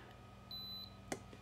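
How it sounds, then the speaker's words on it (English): A short electronic beep sounds from a LiFePO4 battery tester as its black screen button is pressed and held, a thin steady tone over a faint background, followed by a small click. "until we hear that little beep"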